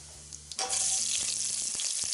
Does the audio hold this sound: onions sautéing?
yes